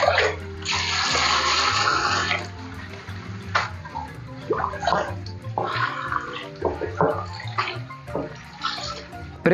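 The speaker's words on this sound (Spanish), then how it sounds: "Previamente lavados y limpios nuestros ejotes" Fresh green beans are rinsed under a running kitchen tap, a steady close splashing stream for a couple of seconds and then intermittent splashes and drips as the beans are handled.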